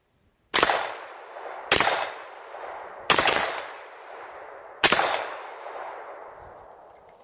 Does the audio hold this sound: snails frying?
no